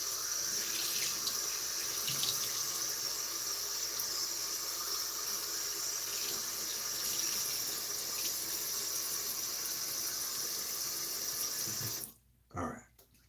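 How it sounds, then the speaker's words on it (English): Water runs steadily from a faucet as a washcloth is rinsed beneath it, a close, continuous hiss and splash that cuts off abruptly near the end, followed by a few drips. "Just rinsing off my washcloth over here."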